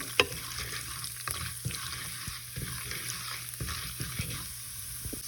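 Urad dal fries in a hot pan with a soft, steady crackle and sizzle, broken by scraping stir strokes, all fairly quiet and close.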